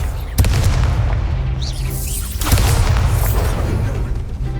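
In Hogwarts Legacy, the Confringo explosive spell lands as two loud, booming blasts. Each is followed by dense crackling rumble, and no one speaks.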